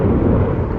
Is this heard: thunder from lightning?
yes